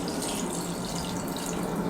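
Water pours steadily into a pot of homemade duck stock, one cup added alongside store-bought duck stock, a continuous close splashing rush with no voices over it.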